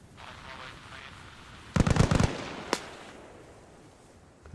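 A grenade blast in a game match, heard as a sharp rattling cluster of bangs over about half a second, then a single crack, set against quiet background noise with occasional talk.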